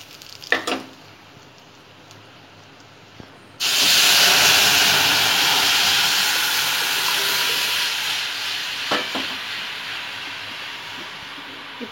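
Tamil-style rasam comes to a frothy boil in a pan, a sudden burst of steady broadband hiss and bubbling that swells in and holds loud, easing slightly toward the end, with a few faint clinks before it starts.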